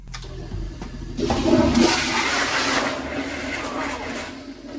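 Toilet flushing loudly and close in a building being winterized, with compressed air pushed through the water lines, a rushing whoosh that swells and then tapers over several seconds.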